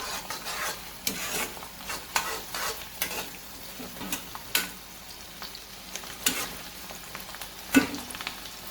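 Cinnamon sticks and three or four peppercorns frying over a high flame for soya keema, a soft continuous sizzle broken by repeated scraping stirs of a spoon against the pan, close and fairly quiet, with no voices.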